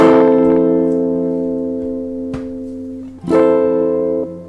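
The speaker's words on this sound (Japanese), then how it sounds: "ペダルリバーブ。 これも踏み込んだらリバーブがかかる。" A sustained guitar chord through a Zoom G1 X Four multi-effects processor's pedal reverb rings out with a long, washy tail, then is struck again and lingers with a spacious reverberant decay.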